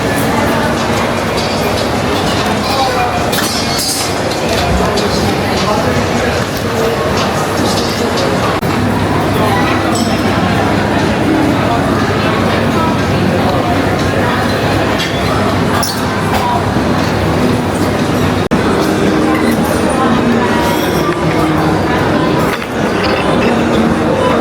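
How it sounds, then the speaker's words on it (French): Steady rumble of a metro train in motion, with continuous rolling noise, low hum and occasional clinks and rattles throughout, loud and close, with faint voices mixed in. "le métro, tout ça."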